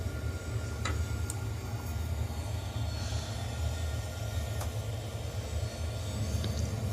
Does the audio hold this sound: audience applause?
no